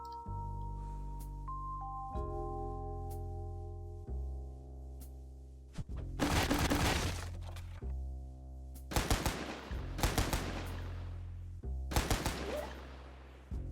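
Bursts of Tommy gun fire in the video game Pecaminosa, several short rapid rattling volleys over looping game music with steady low chords, no talking.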